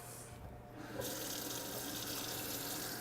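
Hot water runs steadily from a kitchen tap, a continuous close hiss that grows slightly fuller after the first second, with no talking.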